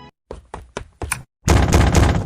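Hard knocks on a door, four or five sharp raps in a row, then a loud sustained series of heavy bangs and thuds as if pounding on it, close and forceful.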